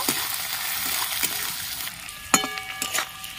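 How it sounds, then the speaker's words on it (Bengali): Onions frying lightly in a little oil with bay leaf, cumin and whole garam masala make a soft continuous sizzle broken by a few stirring knocks and a metallic clink, close by. "পেঁয়াজটা হালকা লাল করে ভাজা হয়ে গেছে"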